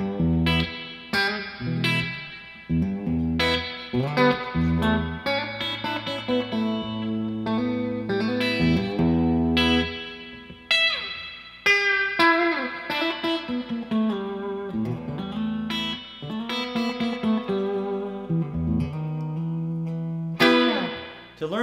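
A Mark Rutters La Burito Especial vintage-style Telecaster electric guitar played through its bridge pickup picks out twangy riffs: a run of bright, separate notes and short chords with clean attacks and ringing sustain, loud and close, with no voices.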